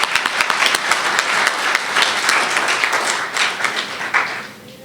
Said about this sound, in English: Let us give them an applause